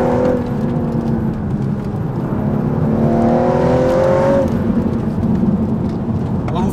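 A 3-litre, 400 hp car engine revs high, a loud droning whir whose pitch climbs steadily before easing off, heard close and continuous with no talking over it.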